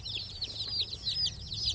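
Freedom Ranger meat bird chicks from a hatchery peep steadily in a rapid chorus of high chirps, close and continuous over a low background hum.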